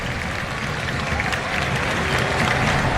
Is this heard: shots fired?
no